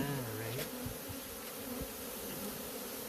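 A swarm of bees hums steadily throughout, a dense continuous buzz close by, with a few brief voices mixed in near the start.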